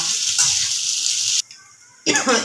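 Spiced egg filling with garam masala is stirred in a hot pan, a steady close sizzle with scraping, briefly cut to near silence before the sizzling returns.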